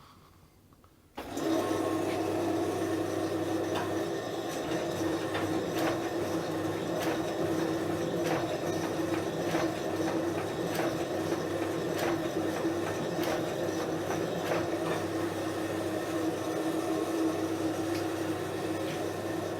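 A vintage Berkel/Parnall bacon slicer starts up abruptly after a short quiet moment, then runs with a steady motor hum and a regular mechanical clicking rhythm as the carriage steps toward the blade, close and continuous.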